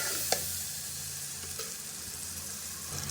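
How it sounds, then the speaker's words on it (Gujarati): Chopped tomato and green chili stirred into hot oil, a faint, even sizzle with a few soft clinks of a spoon against the pan. "ટમેટું અને લીલું મરચું ઝીણું ઝીણું કટિંગ કરી લીધેલું છે તે આપણે તેમાં એડ કરી દઈએ પછી તેને સરખી રીતે મિક્સ કરી દઈએ તેલમાં"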